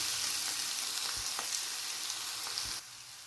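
Grated pumpkin sizzles steadily in a hot pan, a dense close frying hiss with a few soft knocks of stirring, easing slightly at the end.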